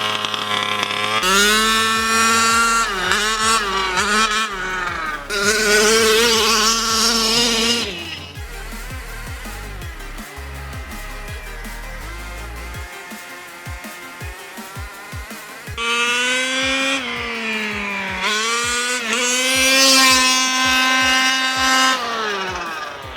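A giant RC truck's motor whines loudly, rising and falling in pitch as it drives through mud, easing to a quieter rumble with clicks midway before revving hard again.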